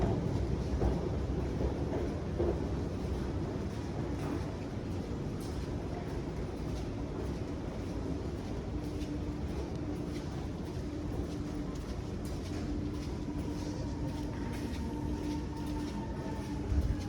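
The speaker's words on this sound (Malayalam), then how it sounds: "അപ്പോൾ നമ്മുടെ മെട്രോ എത്തി" A Chennai metro train pulls into an underground station with a steady broad rumble and hiss, a faint rising whine of the motors joining toward the end.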